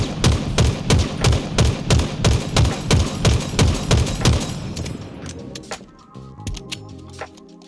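The Bandit rifle in a video game fires a rapid, evenly spaced burst of loud gunshots for about five seconds, then stops, leaving a few scattered clicks and softer mechanical sounds.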